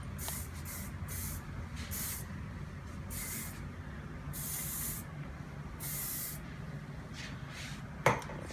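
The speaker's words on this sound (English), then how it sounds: "I'm going to finish off with a little hairspray just so that it all holds in place." Hairspray from an aerosol can misted onto styled party curls in a series of short hissing bursts, several quick sprays close to the mic with brief pauses between them, over a low steady background hum.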